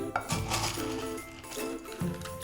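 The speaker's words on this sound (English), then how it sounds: "Add all that pasta in." Dry pasta goes into a pot of minestrone soup with close metallic clattering and clinking from the pot, in rapid irregular knocks that continue steadily throughout.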